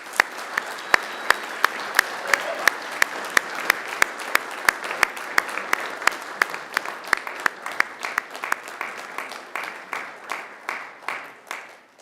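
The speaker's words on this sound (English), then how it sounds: "I invite you to give them a mighty round of applause" A hall of university graduates claps for the families and friends seated behind them at a graduation ceremony. The applause is dense and sustained and gradually thins toward the end, with sharp individual claps standing out.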